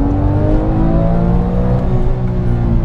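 Naturally aspirated Porsche 997 GT3 engine with a manual gearbox revving loud and close on a cold day, a steady rising harmonic howl as it pulls through a gear.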